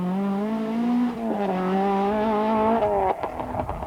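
A rally car's engine screams at high revs nearby on a 1992 Donegal International Rally stage, pitch climbing and holding, then a sharp gear change and a rough, fading note.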